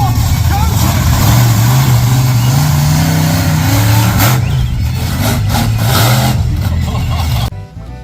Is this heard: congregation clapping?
no